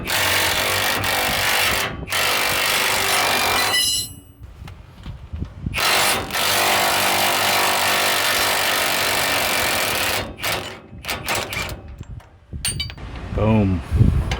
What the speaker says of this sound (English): I might be able to get that with the impact.